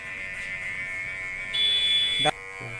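Electric hair clipper buzzing during a children's haircut, a steady close hum that shifts pitch midway and cuts off sharply near the end.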